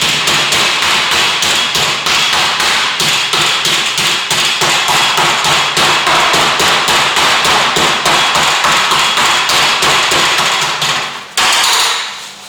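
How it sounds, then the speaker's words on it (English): Turkey meat pounded flat with a meat hammer for schnitzel, giving a long run of rapid, loud, evenly spaced thuds and taps close by, with a brief pause near the end before one last strike. "And we're going to get a meat hammer"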